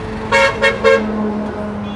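Three quick car-horn toots, close and loud, from vehicles on Highway 52 beside a bullock market, over a steady traffic hum that carries on afterward.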